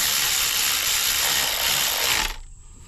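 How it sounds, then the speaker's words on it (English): An electric wrench spins bolts on a 2000 Honda Accord during a distributor oil seal job. Its loud, steady mechanical whir runs for about two seconds, then cuts off. "I just like using electric wrench because it makes things go a little faster."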